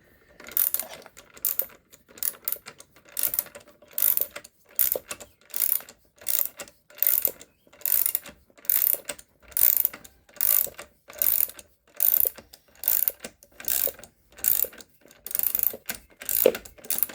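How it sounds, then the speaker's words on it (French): A ratchet wrench working on a Renault Twingo clicks in quick, rhythmic bursts, roughly one burst per second, loud and close, with brief silent gaps between strokes and no speech. "Tac, tac, j'inverse le cliquet. Tac, tac."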